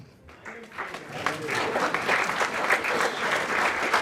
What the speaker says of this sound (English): he needs a round of applause.